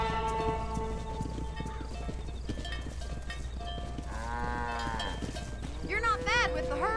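A cattle herd being driven on horseback in the Red Dead Redemption video game: clopping hooves, lowing cows and whinnying horses close by, with someone talking over the animals.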